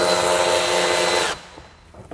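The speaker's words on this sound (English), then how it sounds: "I have this cool Phillips head socket that I use to get into these screws so I don't have to take the wheel off." A power drill fitted with a Phillips head socket whines loudly as it drives screws on a Honda Pilot rear bumper, a steady high buzz that cuts off abruptly, followed by faint handling noise.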